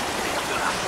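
Steady broadband rush of flowing water in the video game Uncharted: Drake's Fortune, a continuous stream-like wash with no breaks, fairly close and even in level throughout.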